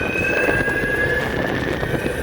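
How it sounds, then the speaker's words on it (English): A high, steady motor whine from an Arc Aileron 2.0 carbon fiber electric shortboard, held at a constant pitch over a rough rumbling drone, loud and close throughout. "the Aileron, rather ironically, sounds more like a low displacement two-stroke engine"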